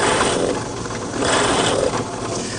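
A plug cutter plunges into a scrap piece of cypress wood, giving a steady, loud, dense whirring grind that holds for a couple of seconds with slight swells, close up and with no voices.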